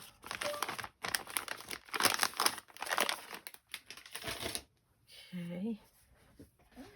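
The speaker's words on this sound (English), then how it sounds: "Get out a noisy baby wipe." A noisy baby wipe pulled from its packet gives repeated loud crinkling and rustling bursts in quick succession at close range, followed by a brief spoken moment near the end.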